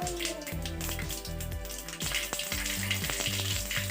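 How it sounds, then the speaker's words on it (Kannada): Mustard seeds splutter and pop in hot oil while tempering for a drumstick-leaf bassaru, a steady sizzle with scattered sharp crackles under background music. "ಸಾಸಿವೆನ ಕೂಡ ಚೆನ್ನಾಗಿ ಅದು ಸಿಡಿಯೋವರೆಗೂ ನೀವು ಫ್ರೈ ಮಾಡ್ಕೋಬೇಕಾಗುತ್ತೆ"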